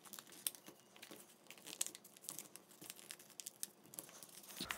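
Sheets of paper crinkle and crease up close as a paper airplane is folded, with soft crumpling rustles and sharp little crackles coming in irregular bursts, quiet and with no talking.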